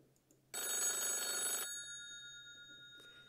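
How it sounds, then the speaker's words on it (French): An old-fashioned telephone bell rings in one loud, continuous burst of about a second, then decays into a lingering ring with a faint second chime near the end, alone without talk. "il y a un coup de téléphone qui sonne."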